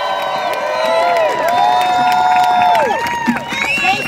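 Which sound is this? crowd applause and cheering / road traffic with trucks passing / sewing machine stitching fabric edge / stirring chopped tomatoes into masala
crowd applause and cheering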